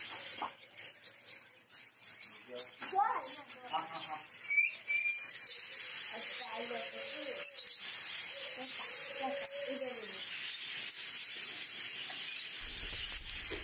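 Japanese budgerigars, lovebirds and pigeons at a bird farm chirp and tweet in a steady busy chorus, with scattered louder calls over a constant high twittering throughout.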